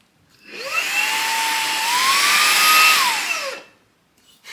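Xiaomi Mi Vacuum Cleaner Mini running at high suction power: a steady, whining motor hum spins up, holds with a slight rise in pitch, then winds down and cuts off after about three seconds.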